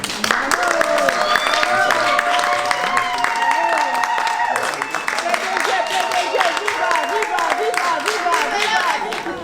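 An audience at an awards ceremony in the French Senate applauds with busy, continuous clapping, heard fairly close, mixed with voices talking throughout.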